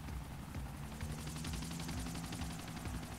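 Helicopters in the game GTA IV hover close together over the ocean, a continuous loud rotor chop and engine drone with a rapid steady beat throughout.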